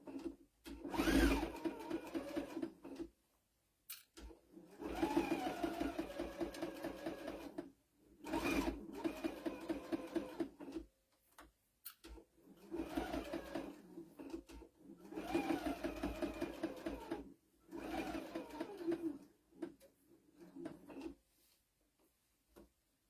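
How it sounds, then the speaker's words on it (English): A heavy-duty sewing machine stitching through a thick denim quilt made from jeans, running in fast, steady bursts of rapid mechanical whirring and clatter with short silent pauses between runs. "That machine is, like, amazing. And all I'm going to do is sew as close as I can."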